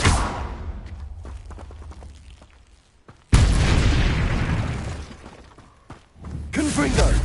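Loud shattering explosions from the Confringo fire spell in Hogwarts Legacy, each blast bursting suddenly and then fading into rumbling debris. A voice is also heard.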